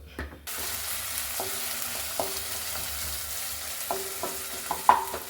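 Onions sauté in a pan as the base for a beef masala, giving a steady close sizzle broken by several scraping stirs of a spatula against the pan.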